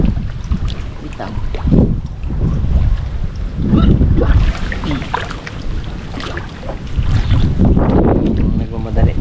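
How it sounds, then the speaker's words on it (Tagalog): Strong, cold wind gusts over deep water on a small fishing boat, a steady low roar of rushing air and buffeting against the microphone with waves sloshing, swelling louder in bursts, voices faintly mixed in. "malakas yung hangin"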